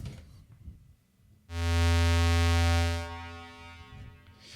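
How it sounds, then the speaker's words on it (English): A single steady synthesizer tone from the second oscillator of a Verbos complex oscillator, unmodulated, with rich harmonics, swelling in for about a second and a half as the amplifier opens, then fading, with no talking. "The complex oscillator is used as 2 oscillator,"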